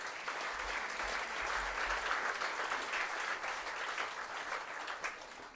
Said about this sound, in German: Auch einen herzlichen Applaus.